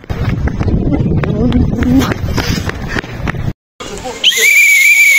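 A shrill, steady whistle blast sounds near the end, after a stretch of busy crowd noise with voices and scattered footsteps at a school prom.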